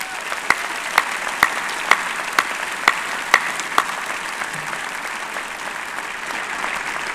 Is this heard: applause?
yes